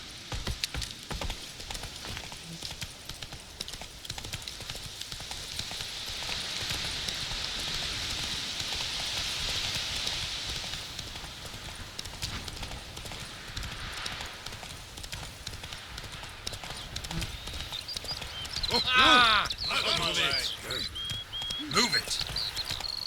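Horse hooves clip-clop steadily in The Witcher 3 video game, a moderate rhythmic trotting under game ambience and background sounds, with a voice speaking over it.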